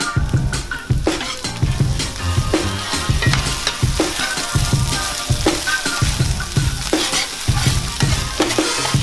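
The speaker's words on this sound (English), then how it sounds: "now we're basically browning the chorizo, getting it nice and cooked" Chorizo browns alongside peppers, shallots and mushrooms in a pan, with a continuous sizzle broken by repeated scraping stirs of a utensil against the pan.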